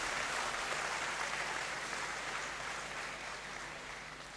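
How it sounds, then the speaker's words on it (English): Steady audience applause fills a great hall at a university congregation ceremony: many hands clapping together in a dense, even roar that holds at moderate level and tapers slightly near the end, with no talk over it. "another round of applause, please"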